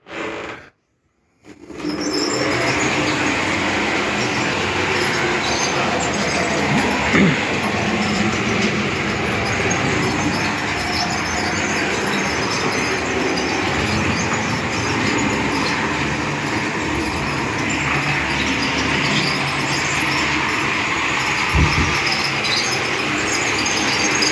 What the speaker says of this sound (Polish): I taki oto piękny zestaw na mojej makiecie sobie hula.